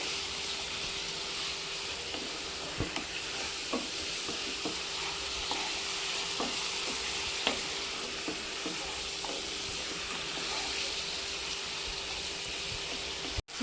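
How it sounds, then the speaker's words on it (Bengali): Chicken pieces fry in a pan while being stirred, giving a steady quiet sizzle with occasional soft scrapes and clicks of the spoon throughout. "কিছুক্ষণ ধরে নাড়াচাড়া করে ভেজে নিতে হবে কালারটা যাতে চিকেনের চেঞ্জ হয়ে যায়"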